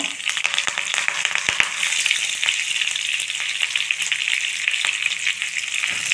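Chana dal, green chillies and curry leaves frying in hot oil for millet upma, a dense, steady crackling sizzle with a few sharp pops and stirring scrapes, close and continuous with no talk.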